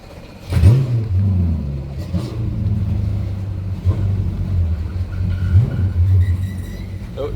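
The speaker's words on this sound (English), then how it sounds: "you can hear the pump making weird noises already" A Mercury steering pump on a Boston Whaler whines and groans with a wavering, uneven hum over a steady low motor rumble, heard up close.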